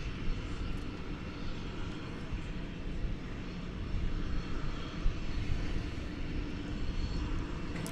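A Qantas airliner rolls at DFW Airport, its engines producing a steady broadband roar that stays fairly even and moderately distant throughout.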